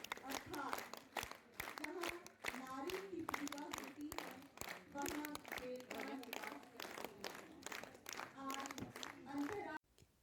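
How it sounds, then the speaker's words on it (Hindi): An audience at a Women's Day celebration in Kullu applauds the chief guest, with dense hand-clapping going on for about ten seconds before stopping abruptly, and voices mixed in under it. "तालियों की गड़गड़ाहट"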